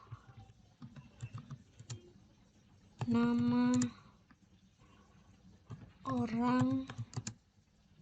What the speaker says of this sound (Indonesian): kita dapat mengetikkan perintah print